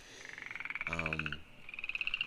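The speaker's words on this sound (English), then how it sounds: "I'm going to end this video now because these frogs are going crazy." Frogs trill in fast rhythmic croaks nearby, briefly interrupted by a short voiced sound before the chorus resumes.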